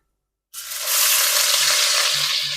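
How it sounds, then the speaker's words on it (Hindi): Three large chopped onions dropped into hot oil for bhindi chicken, bursting into a sudden loud sizzle after half a second of silence, then holding a steady close hiss. "अब इसी ऑयल में जो है 3 बड़े साइज के प्याज जिनको मैंने चॉप कर लिया ऐड कर दूंगी मैं"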